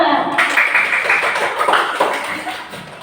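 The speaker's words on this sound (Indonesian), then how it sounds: "Tepuk tangan dulu untuk kelompok satu." Classroom of students applauding a group after their presentation, a steady burst of close, crisp hand claps with faint chatter mixed in.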